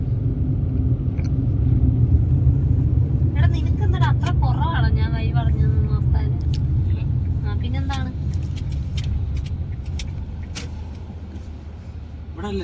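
Car engine rumble and road noise on a drive through Dubai, a steady low drone inside the vehicle while people talk over it, fading slightly toward the end.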